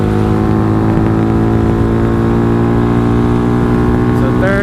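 A Venom X22R motorcycle engine drones loudly and close at steady high revs, its pitch climbing slightly while it accelerates, with what sounds like a rider's voice mixed into the engine noise.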